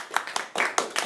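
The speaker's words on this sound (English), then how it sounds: "let's give him a round of applause." A small audience claps for a student about to give a persuasive speech in a classroom, brief uneven bursts of clapping over about a second, fairly close.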